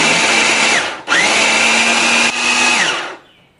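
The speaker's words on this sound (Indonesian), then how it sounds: "kemudian kita akan giling separuhnya lagi" An electric grinder whirs loudly while milling the second half of a batch of ingredients, a high motor whine that dips briefly twice, then spins down and fades out.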